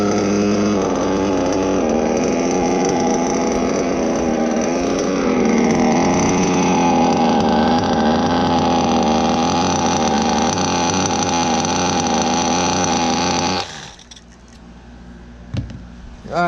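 A modded RC car's Novarossi nitro engine runs with a steady, high, buzzing drone for about fourteen seconds, loud and close, then cuts off abruptly, leaving only a few faint clicks and handling noises.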